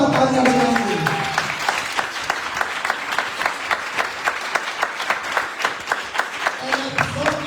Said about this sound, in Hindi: आए खुदावंद यीशु के लिए जोरदार तालियां बजाएंगे।